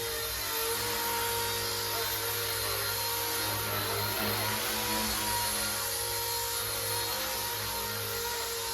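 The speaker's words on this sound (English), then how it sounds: "It looks like a real helicopter flying in the air." RC ERA C138 Bell 206 model helicopter in flight, a steady motor whine and rotor hum holding at an even level throughout, fairly close, with no voices.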